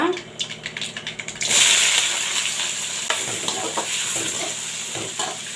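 Mustard seeds, urad dal, chana dal and a little fennel frying in hot oil for idli upma: quick crackling ticks at first, then a loud, steady sizzle with stirring scrapes, close up.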